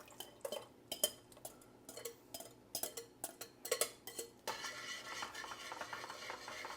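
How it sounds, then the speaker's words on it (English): A spoon clinks and scrapes in a pot as banana pudding mixture is stirred while it heats, in quick irregular taps that give way to a steadier, denser scraping near the end, loud and close with no talk. "we will bring it up to temperature the whole time that we're stirring so that it doesn't stick"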